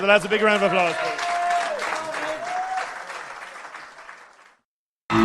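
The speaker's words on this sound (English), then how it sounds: "give the lads a big round of applause" Crowd applauding after a call to cheer the lads on a live radio preview night for the Champions League, a loud sustained wash of clapping that fades out toward the end, with speech mixed in.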